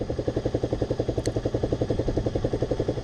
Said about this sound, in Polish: lepszej reakcji na gaz w tym motocyklu chyba nie da rady zrobić